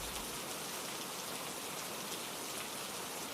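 Rain falling steadily on a rainy night in a village, an even, soft, continuous hiss of drops with no voices and no change in intensity.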